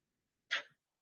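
A single quick sneeze breaks a quiet committee meeting, short and fairly close, with silence on either side.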